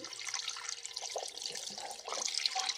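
Steady rush of tap water pouring into a container to fill it, a continuous broadband hiss with faint trickling detail, close and fairly loud, with no voices.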